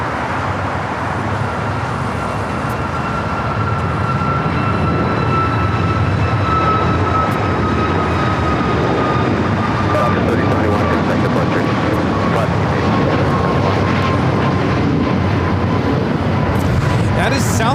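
An Austrian Airlines jet being pushed back from the gate at LAX, with a steady turbine whine that slowly falls in pitch over a broad roar of airport and road noise, continuous and fairly loud throughout.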